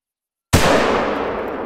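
A single loud rifle shot at a shooting range in the Hunter: Call of the Wild game, a sharp sudden blast after silence with a long decaying echo.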